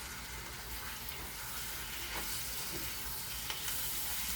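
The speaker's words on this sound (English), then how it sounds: "And then we stir." Meat pie filling being stirred in a pan with stock gives a dense, steady sizzling hiss with a few soft scraping stirs, close and even, with no voices.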